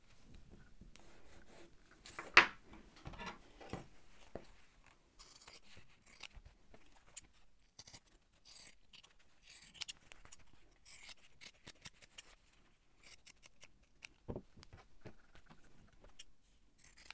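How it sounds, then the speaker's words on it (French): Scissors snip through fabric while two small pieces are cut from denim for mending a torn jean belt loop, giving quiet, close, irregular cuts and rustles with faint handling noise between them. "je vais couper deux morceaux comme ceci de 4 cm sur 4 cm"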